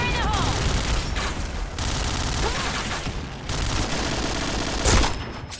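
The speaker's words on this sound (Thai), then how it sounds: "ไล่ยิงอยู่นะฮะ" Dense rapid gunfire in a Point Blank deathmatch round, bursts of automatic shots rattling continuously with a louder blast near the end, while a commentator talks over the action.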